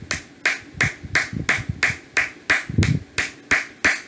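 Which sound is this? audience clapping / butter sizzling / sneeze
audience clapping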